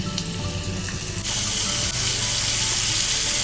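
Marinated chicken drops into a hot pan with onions, spices, sugar and cardamom, and the steady sizzle surges suddenly louder and brighter partway through, then holds as a dense, close frying hiss without talk.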